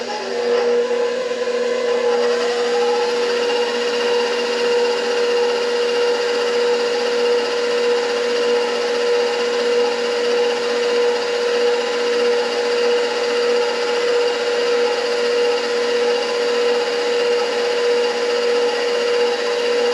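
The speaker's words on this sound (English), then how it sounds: "we are done with the mixer" An electric mixer whirs steadily through pumpkin roll batter, a continuous motor drone with a faint tonal hum holding even and fairly loud throughout, with no talking.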